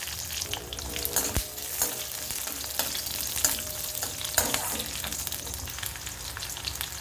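Dried red chilli, curry leaves and shallots frying for sambar, a bright, close crackling sizzle punctuated by regular scraping stirs and occasional spoon taps on the pan, with no speech.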